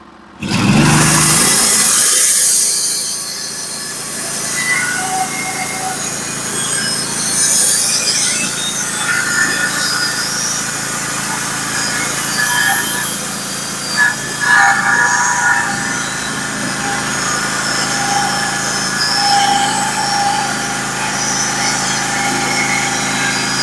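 A Norwood HD36v2 sawmill cuts through a large wood cookie, its engine droning steadily throughout after a loud burst at the start, close and fairly loud with small fluctuations as the blade works.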